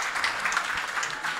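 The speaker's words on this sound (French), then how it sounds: "sous vos applaudissements s'il vous plaît" Brief, fairly soft audience applause after a lecture on artificial intelligence in education and scientific research, a short burst of scattered clapping with no voices.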